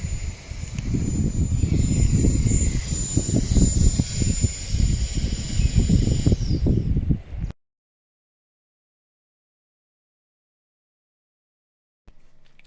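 A KiCA Jet Fan 2 handheld air blower with a high-speed brushless motor roars with a loud, steady, high-pitched jet-like whoosh and whine, then cuts off abruptly into silence, with faint sound returning near the end.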